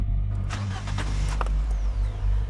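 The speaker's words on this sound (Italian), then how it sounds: "girando la chiave e mettendo in moto la macchina" A car engine is started with a turn of the key: a brief mechanical crank catches into a low running rumble, heard close and fairly quiet.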